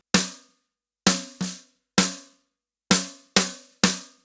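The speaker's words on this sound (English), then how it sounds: "It's quite a bright sounding snare" A bright, cracking snare drum from an emo/pop punk drum mix strikes seven times alone at an uneven pace, each hit sharp with a short ringing tail.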